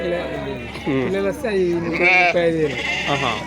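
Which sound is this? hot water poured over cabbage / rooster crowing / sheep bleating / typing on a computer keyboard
sheep bleating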